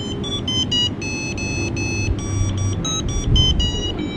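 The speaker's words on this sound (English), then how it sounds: "the buzzer will sound off as if it was the speaker" A Makeblock mBot Ranger robot kit's buzzer plays a pre-recorded tune, a series of bright, thin electronic beeps in a quick melodic sequence over a low background hum, with no one talking.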